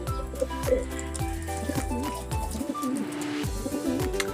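Racing pigeons coo repeatedly up close, soft throaty rolling calls recurring every second or so over a steady low background hum.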